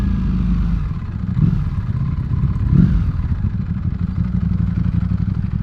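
A Ducati Panigale V4S superbike cruising on a motorway: a loud, steady engine drone blended with rushing wind, swelling slightly twice, with no voices.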